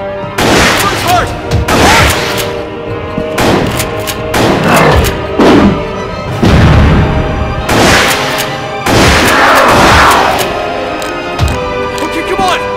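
Gunfire in the survival horror video game Resident Evil: The Darkside Chronicles, loud repeated shots and booming thuds in bursts, mixed with game music and shouting voices.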